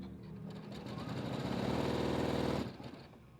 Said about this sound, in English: And I sew again, and I'm not gonna touch anything except for the foot control right now.